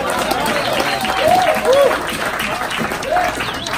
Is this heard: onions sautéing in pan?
no